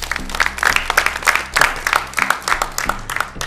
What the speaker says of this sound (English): I see you are clapping for yourself.